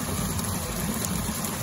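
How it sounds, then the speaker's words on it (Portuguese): Clear mountain spring water gushing continuously from a source in Japan, a steady, dense, full rush of water close by with no pauses and no voices. "E elas jorram assim 24 horas."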